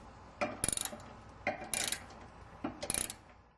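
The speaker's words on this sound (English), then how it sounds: "Finally, lock down the 3 azimuth bolts." A ratcheting wrench clicks in three quick bursts while tightening the three azimuth bolts on a Galileo VSAT satellite dish mount, each run of sharp close ticks separated by brief pauses.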